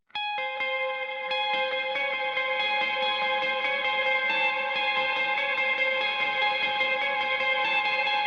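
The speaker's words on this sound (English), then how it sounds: "clean tone and the undulator and black hole by Eventide as modulation" Clean electric guitar chords ringing out continuously with a shimmering, warbling modulation from Eventide UltraTap-style Undulator and Blackhole effects, with lush reverb, steady and fairly loud with no voices.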